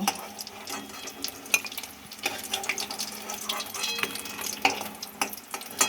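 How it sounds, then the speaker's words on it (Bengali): Potato puris deep-frying in hot oil for Bengali aloo puri, giving a steady crackling bubble with sharp pops and clinks of turning or lifting throughout, close and moderately loud with no talking. "এইভাবে আমি সবগুলোকে ভেজে নেব।"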